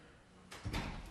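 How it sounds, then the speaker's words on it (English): Door being shut in a hallway outside a conservation commission meeting room, a single soft muffled thud with a brief rustle, faint and a little distant in a quiet room. "Could you shut the door?"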